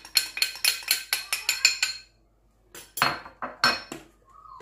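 A utensil whisks crepe batter in a bowl, giving about eight quick, rhythmic clinks against the sides. After a short pause, a few more scraping clinks follow, close and fairly loud, with no talking.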